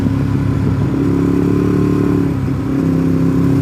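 A sport motorcycle rides at speed, its engine a loud, steady, close drone holding a constant pitch with slight wavering and a brief dip near the end, no talking.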